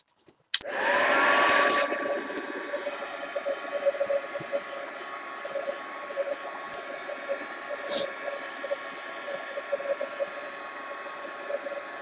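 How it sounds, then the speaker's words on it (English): A heat gun switches on abruptly and blows hot air over a painted mixed-media coffee art journal page, a loud, steady whooshing drone that eases slightly after the first seconds and runs on with a faint whine. "heat gun"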